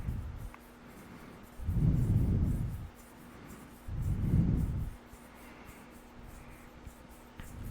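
Two soft, close swishes of hands rubbing together, each lasting about a second, with quiet hiss between them.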